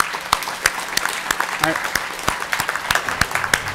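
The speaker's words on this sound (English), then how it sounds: "Clap, clap." Audience at a hackathon presentations and awards session claps in a scattered, rhythmic patter of sharp individual hand claps close by, with someone briefly speaking partway through.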